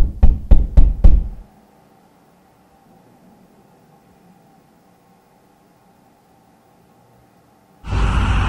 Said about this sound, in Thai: คืนนึงอ่ะก็มีเสียงเคาะประตู